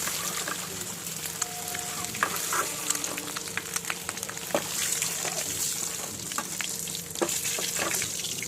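Food frying in a pan, with a continuous close sizzle under scattered pops and crackles and occasional scraping or stirring clicks, no voices.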